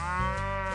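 A cow moos in one sustained, loud, close bellow with a steady tone, heard on its own with no other sound around it.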